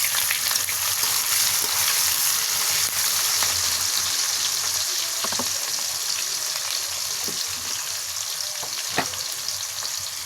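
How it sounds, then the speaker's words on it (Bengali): Chopped onions with whole cumin frying in a pan for a Bengali beef curry, producing a steady, dense sizzle close up, with occasional soft clicks of stirring and no talking. "পেঁয়াজটা আমি একটু লালচে করে ভেজে নেব"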